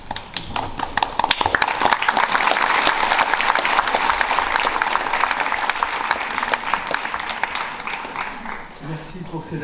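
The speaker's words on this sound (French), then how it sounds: "Merci pour ces applaudissements que je vais prendre pour moi" Dense, sustained audience applause fills a hall before an evening talk on artificial intelligence and art, many hands clapping steadily at full strength and then thinning slightly near the end.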